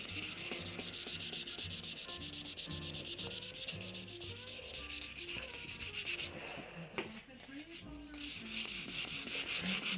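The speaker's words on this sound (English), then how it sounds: "now we've denibbed all the surface of the top" Steady rhythmic rubbing as the polished wooden top of a Tannoy Windsor speaker cabinet is denibbed, a close, continuous scratchy back-and-forth stroke that carries on for the whole stretch without talk.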